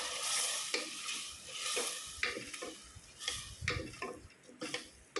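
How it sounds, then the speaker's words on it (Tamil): Ground mint and coriander paste with softened tomatoes fries in oil for pudina pulao while a spoon stirs it. Repeated close scraping strokes sound over a continuous sizzle, with no voices. "ஒரு அஞ்சு நிமிஷம் எண்ணெயிலே நல்லா கிளறி விட்டுக்கலாம்"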